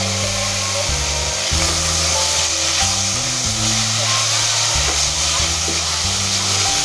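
Vegetable roll filling with green chilies is stirred in a pan, a continuous sizzle and scraping rub under a steady low hum, with no talking.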